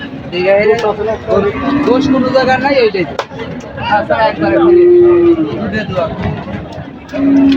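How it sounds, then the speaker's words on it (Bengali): Cattle lowing amid a busy crowd at a livestock market, with several long moos rising over steady chatter and people talking throughout. "এই লাইনে আজকে প্রচুর গরু আইছে, প্রচুর অনেক সুন্দর সুন্দর গরু আইছে।"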